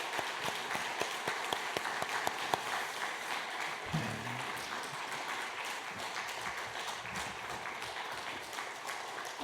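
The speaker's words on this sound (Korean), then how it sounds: "또 우리 나가실 때까지 박수 부탁합니다" A church congregation claps during a Sunday service as a guest leaves, a fairly quiet, sustained spread of many hands with a few sharper individual claps standing out, and a brief low thump partway through.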